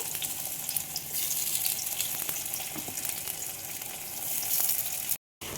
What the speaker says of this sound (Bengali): এখন মিডিয়াম টু হাই ফ্লেমে পটলগুলো ভেজে নেব।